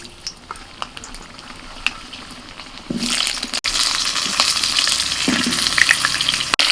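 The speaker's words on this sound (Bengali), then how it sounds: "প্রথমে আলুগুলো ভেজে নেব।" Potatoes dropped into hot oil in a pan for mutton curry: quiet small clinks at first, then a sudden loud, close sizzle that keeps hissing steadily to the end.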